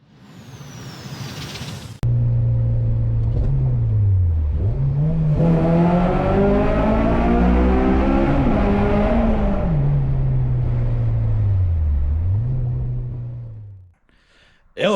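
A power cutting tool slices through a car's sheet-metal wheel arch, a loud, sustained whining grind whose pitch rises and falls with the load for about twelve seconds before spinning down.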